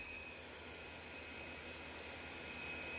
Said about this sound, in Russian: сейчас закрутился вентилятор. Закрутился, завертелся.